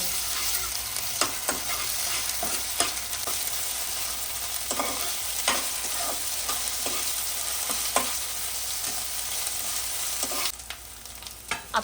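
Ginger-garlic paste fries in a pan for a Konaseema-style tamarind prawn curry, a dense continuous sizzle with scattered crackles and pops and occasional stirring scrapes, close-up and steady with no talk.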